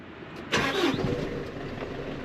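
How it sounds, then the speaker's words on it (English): In cold weather, a lorry engine cranks briefly and catches with a loud roar, then settles into a steady idle hum, heard from inside the cab in the Scottish Highlands. "I am gonna get this lorry fired up because it is freezing in here."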